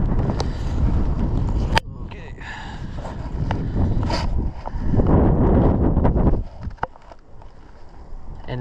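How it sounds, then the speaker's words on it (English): Strong wind buffeting the microphone outdoors while fly fishing for trout in Colorado, a loud low rumble that surges and drops in gusts, with a person talking through it. "And it's windy, and it's so windy."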